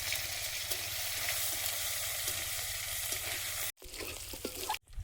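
Dried red chillies, panch phoron and crushed garlic fry in hot oil as a tempering, a dense close crackling sizzle that cuts out briefly twice near the end.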